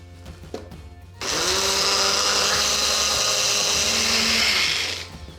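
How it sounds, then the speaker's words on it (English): A kitchen blender blitzes strawberries with icing sugar, starting suddenly after a few small knocks and holding a loud, steady whirring roar for about four seconds before winding down. "So I'm going to add the lid and give that a good blitz together."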